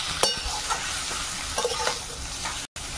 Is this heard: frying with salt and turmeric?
yes